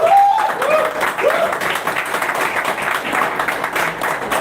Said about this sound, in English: So a round of applause for Jason.